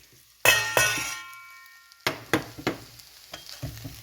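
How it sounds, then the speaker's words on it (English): Boiled potatoes for a spicy masala bhaji hit a hot pan, a sudden bright clang and sizzle followed by a ringing metallic tone, then several clinking stirring knocks over a low crackle. "So now I'm going to add my potatoes."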